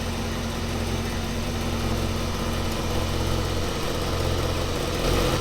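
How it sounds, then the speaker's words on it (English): A Ford F1 shop truck engine idles steadily in a shop, producing a continuous low rumble with constant vibration and no breaks. "she's been sitting here idling for about 15 minutes"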